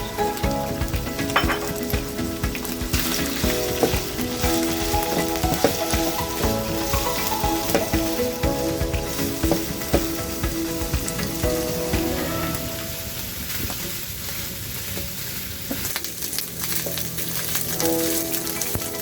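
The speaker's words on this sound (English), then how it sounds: "Then now add your Matumbo and fry for 1 minute." Tripe sizzles and crackles in hot vegetable oil in a pan, steady and close, with occasional scraping and stirring clatter; no voices.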